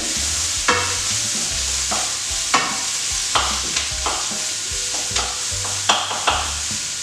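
Two teaspoons of garlic stirred and fried in a pan for a vegetarian chilli, a bright continuous sizzle broken by regular scraping strokes of a utensil, close and loud.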